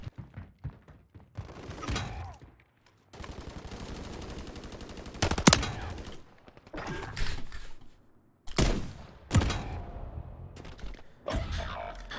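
Gunfire in Modern Warfare 3: bursts of automatic fire and sharp single shots come in uneven clusters, with short gaps between them.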